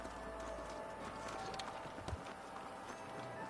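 Horses' hooves clip-clop in a steady, close rhythm in the Western video game Red Dead Redemption, a continuous trotting patter with a brief heavier thud midway.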